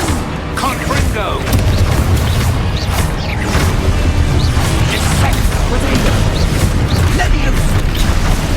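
Confringo explosion spells fired in Hogwarts Legacy, a series of booming blasts and crashes in quick succession during combat, with a voice shouting spell names over them.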